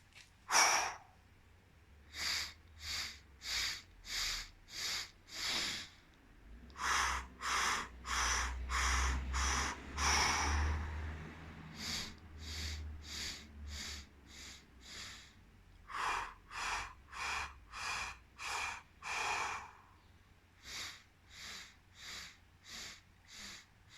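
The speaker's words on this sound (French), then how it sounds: "Et si on essayait de faire la respiration du ventre en 6 fois" A child does a slow belly-breathing relaxation exercise, with a long run of evenly spaced, soft inhales and exhales and a brief pause partway through, close and with no talking.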